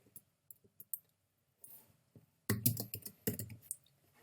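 Typing on a computer keyboard, a few sparse light key taps followed by a quicker, louder burst of clicking keystrokes, close and alone without talk.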